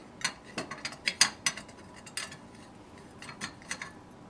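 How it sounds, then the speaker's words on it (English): Metallic clicks and rattles from twisting and unscrewing the center rod of a Rhino vending gumball machine base, a quick series of close, light taps and scrapes with brief pauses. "Give it a good twist and unscrew the center rod."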